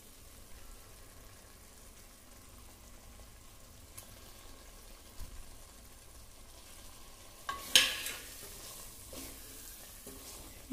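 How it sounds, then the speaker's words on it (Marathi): Eggs sautéing in curry masala in a pan for an egg curry give a faint, steady sizzle, with a brief louder stirring scrape near the end. "मसाल्यात ती अंडी परतायची, म्हणजे त्या अंड्यांना देखील मसाला छान लागतो."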